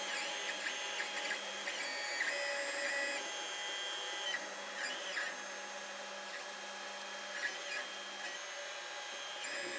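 A Creality Ender 5 Plus 3D printer prints PLA with a soft, steady whir, its stepper motors whining in shifting pitched tones with short pauses between moves, close by and alone.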